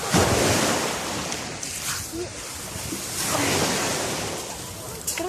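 Sea waves wash in at a beach, a steady broadband roar with surges rising and falling, buffeted by wind noise on the microphone; a voice murmurs faintly now and then.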